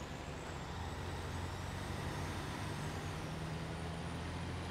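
A heavy Kenworth truck in the SnowRunner video game, its engine a steady low drone with faint high whine and hiss, held at even loudness throughout with no talk.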